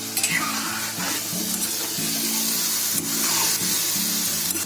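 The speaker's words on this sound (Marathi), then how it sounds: "आता ते चांगलं ढवळून घेते" Marinated paneer is stirred with salt in a sizzling pan, a spatula scraping in repeated rhythmic strokes over a steady frying hiss, close and clear with no talking.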